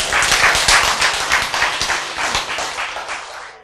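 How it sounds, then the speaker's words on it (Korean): Audience applause at a lecture on healthy eating: steady, dense clapping from many hands fills the room for several seconds, then thins slightly toward the end with no talking over it. "박수!"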